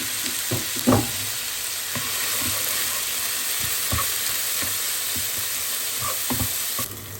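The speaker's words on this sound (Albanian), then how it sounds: "Pas e është nxehur vaj mirë, i morim qep, 1 kg qep" Onions, about a kilogram, frying in hot oil in a pot, a steady broadband sizzle throughout with scattered soft knocks and a few sharper clatters, close and moderately loud, no voices.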